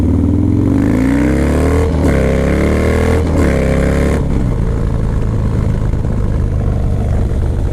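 A Harley-Davidson Dyna Low Rider S motorcycle engine revs up and down several times with a deep throaty rumble, then settles into a loud steady running drone, close by and with no speech.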